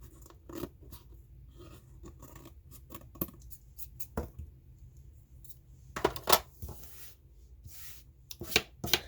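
Scissors trimming overhanging paper from a junk journal cover made from a Little Golden Book, a series of close, crisp snips and paper rustles in quick irregular bursts, with louder cuts toward the end.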